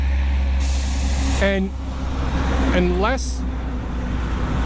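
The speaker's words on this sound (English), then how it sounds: "you know, so you can hear the trucks going by all the time." Trucks going by on a road near gravel mines, a steady rumbling traffic drone with an air-brake hiss and gear-shifting whines, with a voice speaking briefly over it.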